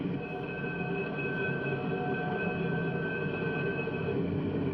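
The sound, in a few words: Santa Fe Super Chief passenger train stopping at station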